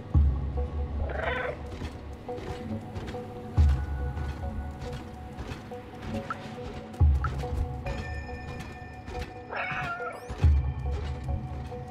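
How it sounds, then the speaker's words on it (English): Repeated cat meows from a player-controlled cat in the video game Stray, several separate calls spaced over low rumbling ambient game music and background hum. "I like how they all look at me when I meow at them."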